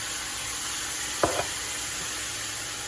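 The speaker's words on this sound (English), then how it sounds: "The mushrooms are already cooking down" Mushrooms and onions sizzle steadily in a pan, a soft continuous frying hiss with a couple of brief louder clinks or stirs in the middle.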